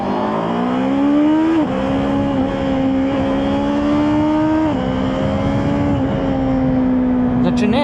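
A motorcycle engine drones steadily as the rider shifts into first gear, its pitch dropping in a couple of distinct steps against constant rumbling road noise.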